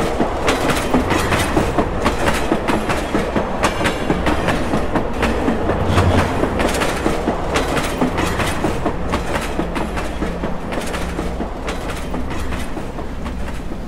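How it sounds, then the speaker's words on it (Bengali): The Darjeeling Mail, an overnight train out of Sealdah, rolls along the rails with a close, continuous rhythmic clickety-clack and rumbling wheels throughout, with no talking. "আমরা রবিবার রাত 10টা 5 দার্জিলিং মেলে উঠে বসলাম। ট্রেন রাইট টাইমে শিয়ালদা ছাড়ল।"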